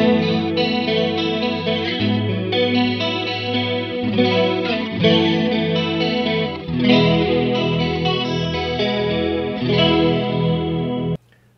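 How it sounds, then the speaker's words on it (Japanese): Electric guitar played through a Free The Tone TA-2H chorus pedal at 100% wet on its center setting, shimmering wavering strummed chords ringing steadily for several seconds before stopping abruptly, with no voices. "まあ、コーラス音だけっていうのでやっていきます。"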